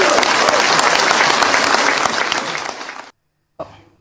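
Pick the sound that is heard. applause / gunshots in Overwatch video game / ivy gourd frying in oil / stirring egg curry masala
applause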